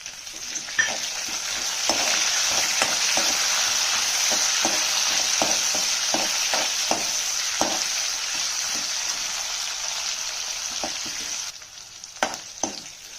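Green chillies and garlic frying in a pan for a village-style ridge gourd pappu, a steady loud sizzle broken by regular scraping stir clicks, quieting briefly near the end before more stirring.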